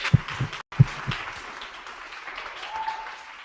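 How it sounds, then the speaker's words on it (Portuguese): Applause for the organizers of a photojournalism workshop: a few close, heavy claps at the start, then a softer, thinning patter of audience clapping that fades over a few seconds. "Palmas de novo para eles."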